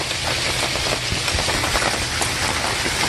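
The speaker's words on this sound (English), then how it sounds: "it's not raining that bad right now" Rain falls steadily outside an RV, a dense patter of drops on surfaces, moderately loud and continuous, with no voices.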